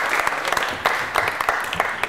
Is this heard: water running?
no